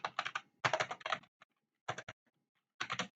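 Code being typed on a computer keyboard: brisk clusters of close, crisp key clicks in short bursts, separated by brief pauses of silence.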